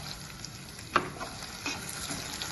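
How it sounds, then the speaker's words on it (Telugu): Quiet, steady sizzling of food frying in a pan, with a brief clink of a utensil stirring partway through. "ఇవన్నీ ఫ్రై చేసుకోవాలి బాగా"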